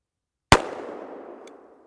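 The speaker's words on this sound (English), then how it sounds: "So right here's where I shot it with the 350 Legend" A single sharp gunshot from a Smith & Wesson revolver chambered in .350 Legend, a loud close crack followed by a long fading echo tail, with a faint click about a second later.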